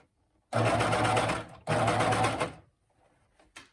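A coverstitch sewing machine runs two loud, steady bursts of stitching as it sews a reverse coverstitch inside a pair of leggings, with a short pause between, then quiet handling and a brief final whir.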